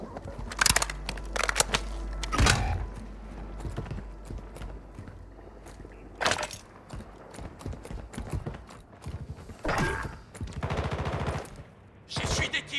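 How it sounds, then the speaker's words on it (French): Gunfire in the Call of Duty video game, with scattered bursts and single shots over a busy battle soundscape, some close and sharp, others more distant, with no clear speech. "J'essuie des tirs."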